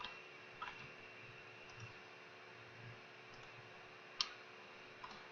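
Sparse computer mouse clicks during AutoCAD drafting work, a few soft, isolated clicks spaced irregularly over a quiet, faintly humming background, with one sharper click near the end.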